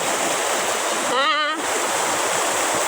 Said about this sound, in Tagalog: Dito, original ang falls dito.